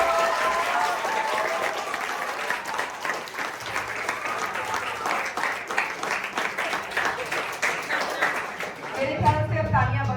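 A school audience at a Hindi Diwas poetry gathering (Kavi Sammelan) claps steadily for about nine seconds. The applause fades at the end as a voice starts speaking.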